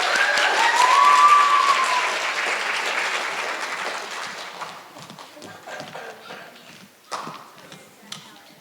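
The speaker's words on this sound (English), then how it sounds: "Let's give them another round of applause." An audience at an elementary school literacy competition applauds loudly, and the clapping slowly thins out into scattered claps, footsteps and light shuffling noises, with a brief shrill whistle near the start.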